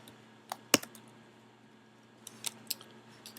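Sparse keystrokes on a computer keyboard while writing Android database code: a few sharp clicks, one loud tap, a pause, then another short cluster of taps, close and clear over a quiet hum.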